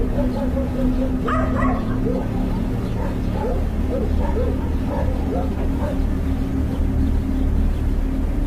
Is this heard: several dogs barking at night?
yes